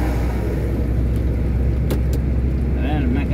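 A car engine drones steadily on a highway while overtaking a slow truck, a loud continuous road and motor roar with wind noise throughout and someone talking over it.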